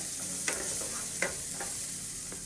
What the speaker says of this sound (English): Just to saute it up a little bit, especially my celery, because I don't want it to be too hard.